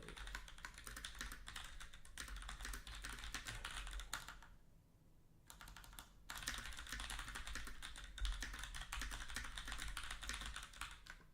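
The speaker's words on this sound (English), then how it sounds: "I'm typing out the instructions for the prompts." Fast continuous typing on a computer keyboard, brisk clicky keystrokes that stop for about a second midway and then resume, close and fairly quiet, with no talking.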